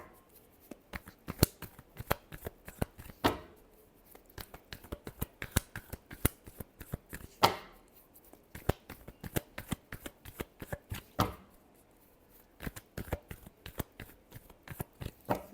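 Tarot cards being shuffled by hand, a long run of crisp, rapid riffling bursts in close succession with short pauses between rounds, close and fairly quiet with no talking.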